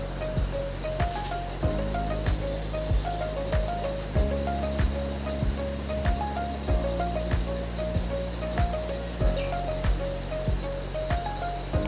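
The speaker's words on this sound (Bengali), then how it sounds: "একইভাবে আমি সবগুলো লইটা মাছ ফ্রাই করে নেব" Loitta fish fry in hot oil, with a continuous bubbling sizzle underneath a regular series of sharp clicks.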